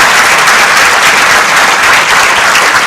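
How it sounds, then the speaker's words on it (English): A hall of students at an induction and orientation program gives a huge round of applause. The clapping is loud, dense and unbroken, filling the whole stretch with no gaps. "And I want you to do one more round of huge applause."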